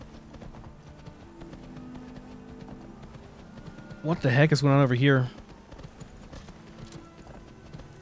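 A horse's hooves clop briefly in the Skyrim video game, a short burst of rhythmic steps with a whinny-like tone rising over quiet game ambience, while someone talks before and after.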